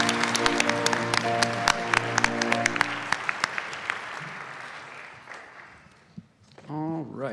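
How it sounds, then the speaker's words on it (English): An audience at a regional spelling bee claps for the first-round spellers: a steady patter of applause under sustained musical tones with sharp hits, fading out toward the end, where a voice starts speaking. "let's have a big round of applause for our round 1 spellers."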